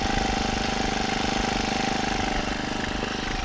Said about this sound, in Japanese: 今年シーズン初めての草刈りになります。